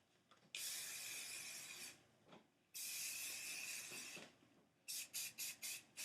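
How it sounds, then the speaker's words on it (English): Hairspray hisses from an aerosol can onto hair in two long bursts, then five quick short spritzes, close and clear with no talk. "we're just going to take hairspray the entire thing."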